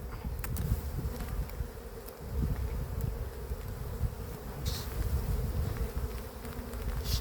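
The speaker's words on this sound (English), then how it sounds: "Shaking the bees off there." Honey bees buzz loudly and continuously as they are shaken off a hive frame during an end-of-season inspection, a dense close drone with a few sharp knocks.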